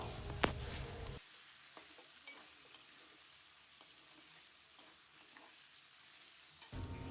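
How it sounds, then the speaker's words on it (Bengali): Chopped tomatoes sizzle as they are stirred into hot oil in a pan, a steady frying hiss broken by scraping stirs, louder bursts at the start and end. "এবার আমরা টমেটো কুচিগুলোকে এর মধ্যে দিয়ে দিলাম, দিয়ে ভালো করে এটাকে নাড়াচাড়া করে নেব।"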